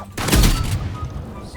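Gunfire in the video game Rivals, a quick burst of loud, close shots clustered together, followed by a fading tail of lower rumble.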